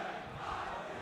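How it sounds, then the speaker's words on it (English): A crowd of fans in a rink at a varsity high school hockey game chants the U.S. soccer chant from the 2014 World Cup, a steady, dense roar of many voices with no break. "the crowd using that great soccer chant from the U.S. in the"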